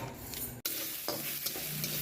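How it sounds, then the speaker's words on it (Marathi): Onion frying in a pan at a busy Kolhapur dhaba gives off a soft, continuous sizzle with faint scraping from stirring, heard briefly and at low volume with no voices. "हा आपण इकडे फ्राय कांदा करतोय"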